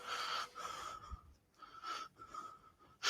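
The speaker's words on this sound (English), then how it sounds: "The heavy breathing." Slow, heavy breaths rasp in and out, several wheezy inhales and exhales with pauses between, close and fairly faint.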